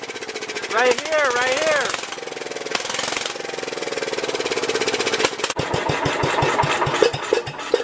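A homemade go kart engine on full choke is pulled over and fires up, its rough, loud mechanical chatter running steadily with a rhythmic chugging near the end while a person speaks over it.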